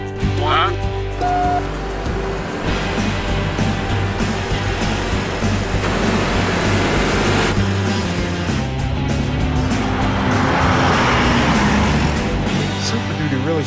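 A Ford Super Duty pickup truck accelerates uphill at altitude in a 0–100 km/h run, its engine building to a sustained, loud roar that stays strong for the whole stretch.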